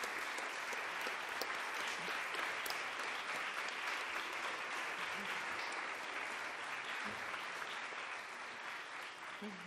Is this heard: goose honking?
no